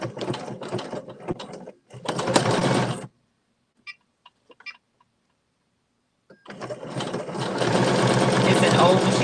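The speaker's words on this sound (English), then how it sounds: "It's an old machine and I'm using it for sewing, so I have no idea how it works in embroidery." An old sewing machine stitches orange trim with loud, close, steady mechanical whirring in two bursts, split by a near-silent pause with a few faint clicks.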